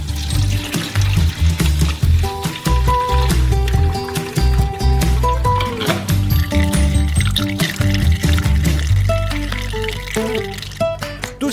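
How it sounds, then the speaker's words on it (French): Liquid is poured through a sieve into a bucket, splashing and gurgling steadily up close amid clunks and knocks of the container, with a brief bit of talking. "Vous pouvez le verser sur le tamis dans le seau."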